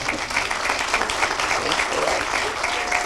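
Audience applause fills a Downey city council meeting chamber, steady and dense throughout, marking a colleague's retirement recognition; a voice briefly speaks over the clapping.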